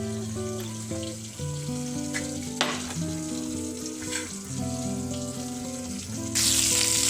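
Pointed gourd (potol) frying in a pan, a steady close sizzle with a few stirring clatters, and a brief rush of water at the very end.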